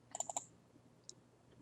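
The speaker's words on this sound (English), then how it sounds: "So once you're here, you just double click." A computer mouse gives two quick double clicks, four crisp clicks close together at the start, then one faint click after a short pause, heard alone and close.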